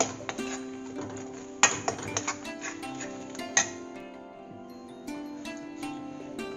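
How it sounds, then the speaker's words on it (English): Almond halwa being stirred in a pan, a spoon clinking and tapping against the metal in irregular light knocks over a soft background hum. "I'm just going to add a couple of spoons and keep stirring again."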